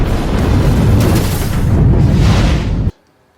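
A loud, sustained explosive roar with rumbling low end, lasting about three seconds before cutting off abruptly into near silence.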